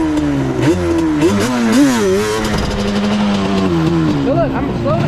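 A Yamaha Banshee ATV engine held in a wheelie, revving loud and close, its pitch rising and dipping repeatedly as the throttle is worked to slow the machine.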